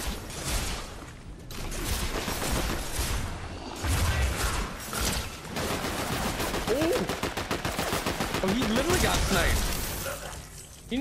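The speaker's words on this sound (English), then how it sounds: "Somebody actually sniped him." Gunfire in Fortnite, including a sniper rifle shot, comes as a dense run of loud cracks and rapid bursts mixed with game effects, while a person talks over much of it.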